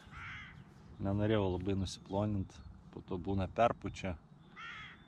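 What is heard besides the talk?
birds calling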